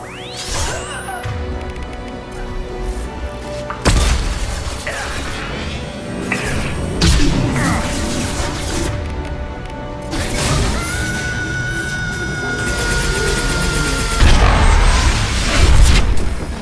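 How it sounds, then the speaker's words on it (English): Heavy crashes, booms and whooshes from tanks being blown up by heavy weapons during a battle in the video game Mass Effect 2, loud and dense, with repeated impacts over layered game sound and music-like tones. "It'll take heavier weapons than that to blow those tanks."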